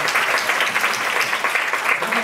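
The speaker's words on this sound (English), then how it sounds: "So everybody please give a round of applause for Phil" Audience applause for panelist Phil Yu at a SXSW 2017 panel, a steady dense wash of clapping that holds at an even level throughout.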